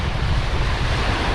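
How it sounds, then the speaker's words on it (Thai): Strong ocean waves crash onto the shore behind an Esso station, a dense, continuous roar of surf mixed with gusting wind buffeting the microphone, loud and close with no voices. "คลื่นล้มอย่างแรงนะครับคุณผู้ชมนะ"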